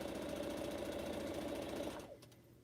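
A sewing machine stitches pineapple quilt blocks with a fast, steady mechanical chatter close by, then stops abruptly near the end, leaving quiet handling noise.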